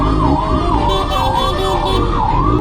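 Ambulance siren wailing loud and steady from behind on a road, its rising and falling tone repeating in slow cycles over a constant rumble of traffic and engines.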